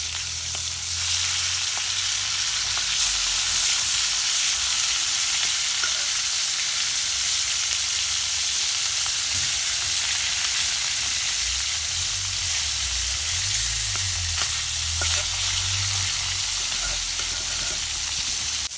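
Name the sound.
surma fish frying in oil after being flipped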